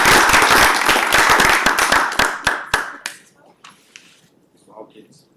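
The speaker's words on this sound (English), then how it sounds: "Can we please give these outstanding young athletes a round of applause?" A council meeting audience applauds young athletes, with a burst of dense clapping that thins into scattered individual claps and fades to quiet, with faint voices near the end.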